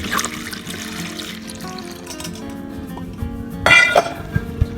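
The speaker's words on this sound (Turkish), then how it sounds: "bir adet yaş maya üzerine 2 su bardağı ılık sütümüzü ekleyelim." Warm milk is poured onto fresh yeast for cheese poğaça dough. Quiet dish clinks come first, then a short, close liquid splash and trickle near the end.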